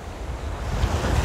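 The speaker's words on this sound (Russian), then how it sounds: "Ух, какие волны." Sea waves wash onto the shore at Anapa in the early morning, a continuous loud surf rush with wind buffeting the microphone and no talk.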